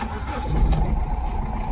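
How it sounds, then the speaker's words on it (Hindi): A Honda Amaze diesel car with engine vibration, low pickup and a check-engine light starts up and settles into a rough, low rumbling idle, heard close and fairly loud with no talking. "एक बार गाड़ी को स्टार्ट करता हूँ"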